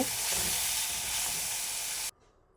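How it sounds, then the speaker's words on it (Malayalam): Onions and tomatoes frying in a pan for beef curry, a close, steady sizzling hiss that cuts off abruptly near the end. "അപ്പോൾ ഉള്ളി വെന്തുകൊണ്ടിരിക്കുകയാണ്"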